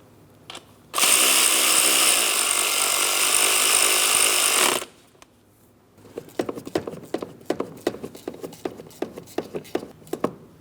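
A power tool drives in the thermostat housing bolts on a 2003-2007 Cadillac CTS 3.6L V6 in one loud continuous burst of about four seconds, followed by a run of quick ratchet clicks.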